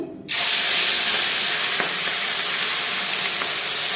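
A loud burst of sizzling erupts as fish hit hot mustard oil in a kadai, settling into a steady, close crackling hiss with occasional pops.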